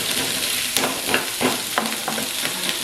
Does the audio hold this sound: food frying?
yes